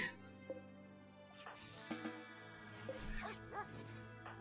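Dogs barking and fighting in the video game RimWorld, a scatter of short yips and growling barks mixed with a music-like background and a talking voice over it.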